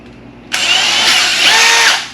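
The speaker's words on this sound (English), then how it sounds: "I'm supposed to be wearing a mask and gloves drilling carbon." A power drill bores into an Anvil carbon fibre car door sill. It is quiet at first, then the drill starts abruptly and whines loudly and steadily, close by, for over a second before easing off.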